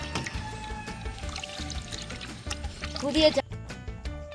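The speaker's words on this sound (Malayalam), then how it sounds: "വെള്ളം ഒഴിച്ച്" Water is poured over anchovies to wash them, a close splashing pour that swells toward the end, then stops abruptly, beneath a tonal background.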